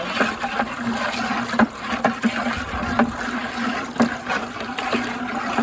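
Backyard pool water dumped from a bucket back into the pool makes a rushing, sloshing splash with repeated surges and gurgles over several seconds, fairly loud and close with no voices.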